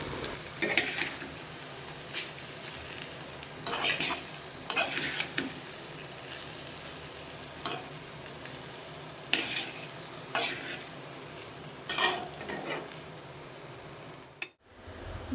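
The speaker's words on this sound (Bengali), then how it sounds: "এবার চালটা একটু ভাজা ভাজা হচ্ছে একটু ভাজা ভাজা হয়ে সাদা হয়ে একটু চালগুলো সাদা সাদা হয়ে যাবে" Rice dry-fried in a pan until it turns white, with a steady scratchy stirring and soft sizzle broken by sharp scraping strokes every second or two, close and clear, ending in a brief clatter and silence.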